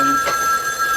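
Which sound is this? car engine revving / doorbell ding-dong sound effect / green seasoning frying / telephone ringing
telephone ringing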